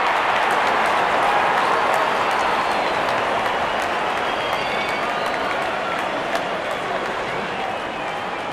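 A cricket stadium crowd in the game Real Cricket 24 cheers as the openers walk out, a loud continuous roar of voices and applause that fades slightly over time.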